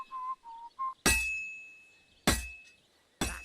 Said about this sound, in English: That's some nice whistling.